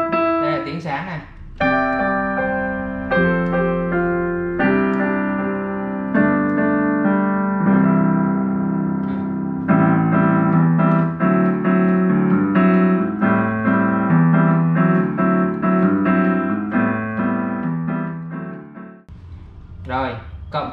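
Yamaha YDP163 digital piano playing a bright piano voice, a continuous run of chords and melody notes with clear harmonic tones, played close and alone before a brief pause near the end.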